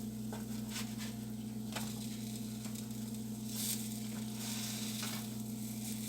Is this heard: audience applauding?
no